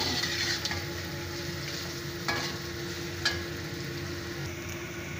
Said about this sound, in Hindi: अब इसको 2 मिनट भूनेंगे।